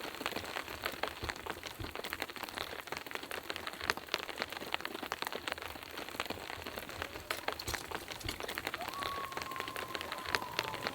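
Steady rain patters on a tent at a solo campsite during a Colorado storm, a dense continuous hiss of drops with occasional sharper taps, even and close throughout with no voices.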